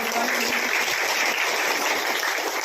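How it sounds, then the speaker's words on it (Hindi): Applause rises from a seminar audience at a village panchayat gathering in Kotal, Premnagar, a steady dense patter of many clapping hands filling the whole stretch without a break. "मैं जोरदार ताली से इनके लिए अभिनंदन चाहूँगा"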